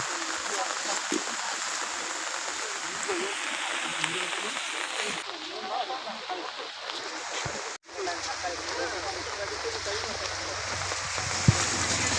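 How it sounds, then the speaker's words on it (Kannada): Rising monsoon floodwater spills onto a road, a steady broadband rush of flowing water that runs continuously at close range with a brief dip partway through. "ರಸ್ತೆಗೆ ಬರ್ತಾ ಉಂಟು ಈಗಾಗಲೇ ನೀರು ಜಾಸ್ತಿ ಆಗ್ತಾ ಉಂಟು"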